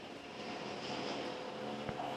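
An Emirates Boeing 777 bound for Dubai takes off from Manila Airport, heard as a faint, distant, even jet roar with a faint whine, alone without talk.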